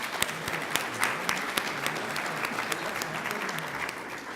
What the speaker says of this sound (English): Yes, that's a round of applause